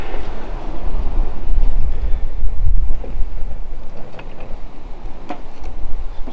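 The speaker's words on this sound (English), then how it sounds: "It's a little bit windy now" Sea breeze at a beach campsite, steady loud wind rumbling and buffeting the microphone throughout, with faint scattered clicks and taps over it.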